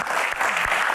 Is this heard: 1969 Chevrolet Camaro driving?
no